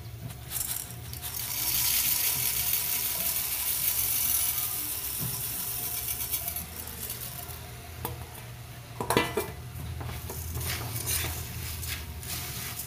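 Puffed rice being tossed and mixed with fried peanuts in a pan, a continuous close rustling and scraping texture with a few sharper clatters toward the end; no speech.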